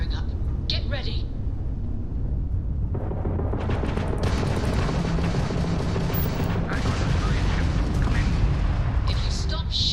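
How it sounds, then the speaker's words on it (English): Sci-fi spaceship weapons fire in a space pirate video game, a dense continuous barrage of booming blasts and rumbling explosions with sharp bursts throughout, loud and busy with game sound and voices layered on top. "If you stop shooting at us"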